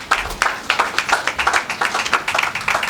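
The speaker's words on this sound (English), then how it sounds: "Please, a round of applause for Pastor IT." A church audience applauds a pastor with brisk, close, fairly steady clapping from several hands that carries on throughout.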